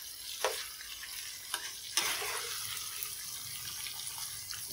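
Tofu fries in a pan with garlic scattered over it, giving a steady soft sizzle broken by a few sharp scrapes and clinks as it is stirred and turned, with no talking.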